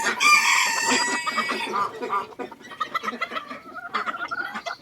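A bantam rooster crows loudly up close, one long cock-a-doodle-doo, followed by softer clucking and chicken chatter.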